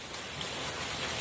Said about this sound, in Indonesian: Dan sekarang keadaan sedang hujan.